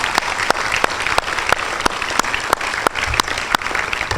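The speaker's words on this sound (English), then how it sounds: "Okay, one more round of applause." A crowd at a teen health coalition awards and graduation ceremony claps steadily, a dense roomful of applause with sharp individual claps standing out close by throughout.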